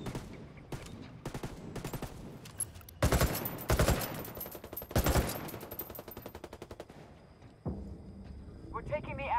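Gunfire in Ghost Recon Wildlands during a hostage defense: scattered single shots build into loud, tight bursts of automatic fire, with brief pauses and voices calling out between volleys.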